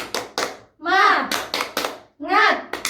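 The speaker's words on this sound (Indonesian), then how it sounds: "Ayo tepuk semangat." Children perform a rhythmic Indonesian "tepuk semangat" clapping chant in a classroom, sharp hand claps alternating with short chanted vocal bursts in a bouncing pattern, loud and close.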